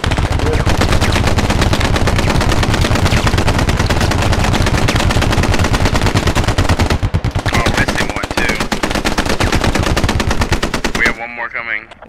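Rapid, sustained automatic gunfire from the military shooter game Squad crackles loud and dense for about eleven seconds, with a few scattered shots and a brief gap near the end.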